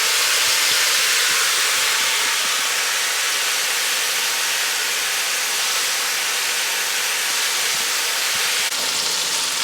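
Onions cooking down with bacon in a pan for pork belly and red kidney beans, a steady, dense sizzle hissing continuously with no pauses.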